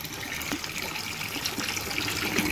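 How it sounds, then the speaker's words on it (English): Water gushes out of a hose started with a hand-pump siphon, a steady close rushing trickle with small splashes and no talk. "Come over here and show how fast this water came out now."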